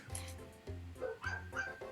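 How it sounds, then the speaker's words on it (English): Mountain dogs bark in a tabletop game setting, a run of roughly four short, fairly close barks, each followed by a tonal yelp or whine. "There are a lot of dogs."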